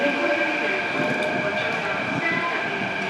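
A Mumbai Metro train rumbles along at steady speed, a constant loud drone with a high whine from the motors and no break.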